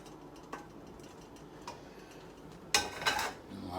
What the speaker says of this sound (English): As you see, I'm mixing it up